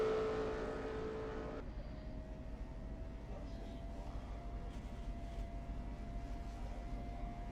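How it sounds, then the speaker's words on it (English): The number 8 Budweiser Chevrolet stock car drones through turns 3 and 4 at Daytona in a racing game, a steady distant engine hum under a commentator's voice. "The number 8 Budweiser Chevrolet as it comes through turns number 3 and 4 now"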